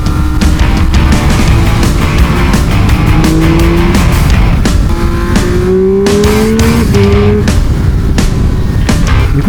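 A 2022 Triumph Speed Triple 1200 RR tears around a private circuit, its loud three-cylinder engine rising through the gears in repeated climbing revs with abrupt shifts, close and unbroken.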